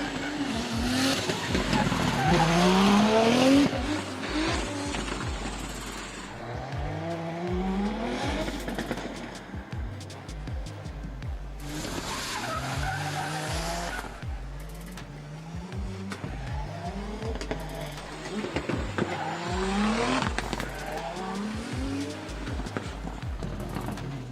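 A Nissan S15 drift car at a D1GP Malaysia round revs hard with repeated rising and falling engine sweeps and long tire squeals, loud and near for the whole stretch, with a commentator talking over it.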